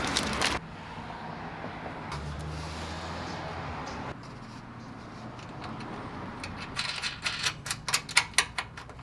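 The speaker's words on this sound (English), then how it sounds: "I'll be using a 10mm wrench to hold it there like that, and then a 10mm socket on the other side" A 10mm wrench and socket tighten a nut and bolt near the headlight bracket of a Subaru, giving a run of quick ratcheting clicks that grow louder toward the end, with muffled handling noise before.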